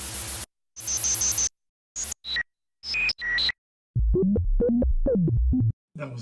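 Raw analog drum loop from a Behringer CAT synthesizer, dry punchy electronic hits with buzzy noise bursts and tonal blips in a stop-start pattern, loud and alone.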